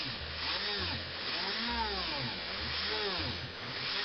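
A small electric drill with a 1.7mm bit whines close by, its motor pitch rising and falling as it bites into material, with no talking.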